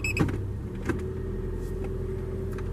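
A 2009 Scion xD automatic idles steadily with a low engine rumble while its transmission is shifted through the gears, a couple of soft clicks and clunks sounding near the start.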